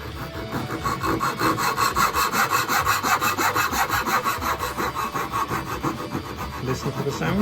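A fine hand saw cuts a wooden dovetail joint with steady, rhythmic back-and-forth strokes, close and loud, about two strokes per second throughout, with no talk.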